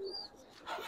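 A bagha chuital male pigeon coos close by in a short, soft call, with a brief brighter chirp near the end.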